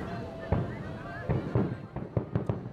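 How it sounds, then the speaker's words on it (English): Fireworks from the Disney Illuminations nighttime show boom in the distance, several dull thuds at irregular intervals under a crowd murmur and nearby talk. "You hear the booms in the background. That's actually Illuminations."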